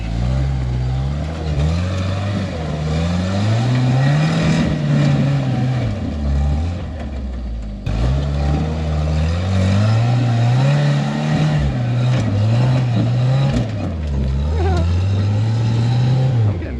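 An off-road rig's engine revs and labors up a trail, the pitch rising and falling in long surges that stay loud and close, with a brief dip midway.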